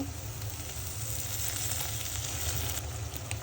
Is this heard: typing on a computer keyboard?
no